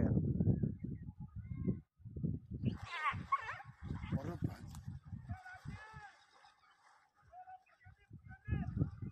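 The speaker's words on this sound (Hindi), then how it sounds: "ले गया कुत्ते को, ये पकड़ा" A dog whimpers and yelps in high, strained cries as a crocodile drags it away, heard amid frequent loud, excited human voices.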